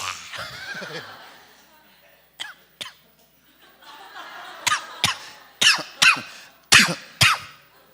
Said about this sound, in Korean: 이게 진짜 기침이야.